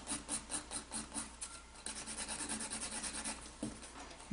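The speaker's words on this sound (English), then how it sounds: "I'll just start filing this one." An acrylic nail being filed with short, rhythmic back-and-forth rasping strokes that start in quick, evenly spaced pulses, then blur into a steadier rubbing scrape, close and faint, with no voices.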